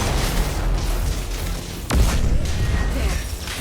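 A frag grenade goes off in Mass Effect 3 combat, a single sharp boom about midway that cuts through steady loud battle noise and music and is followed by a heavier rumbling bed.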